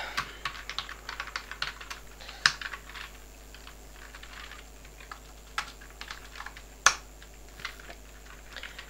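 Code is typed on a computer keyboard in rapid, irregular clicking bursts with a couple of sharper key strikes, close up and with no talk.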